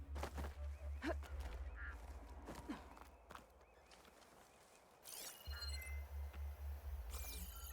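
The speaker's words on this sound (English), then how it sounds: "I hear a duck a-quacking." Ducks quack a few times in the video game Horizon Forbidden West, short calls scattered over a quiet backdrop of rhythmic footsteps and ambient game sound.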